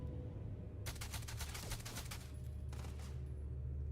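Rapid bursts of automatic gunfire from a powerful weapon in the space game Starfield, a dense volley of shots lasting about two seconds, then a shorter burst, over a steady low hum.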